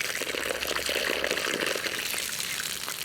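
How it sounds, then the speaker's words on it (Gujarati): Water poured and swirled over soaked dal while washing it in a bowl for Gujarati dal dhokli, a steady close splashing wash lasting throughout with no talk. "નીચેથી ધૂળ કાઢી અને આખા પાણીથી સારી રીતે ધોઈ લઈએ"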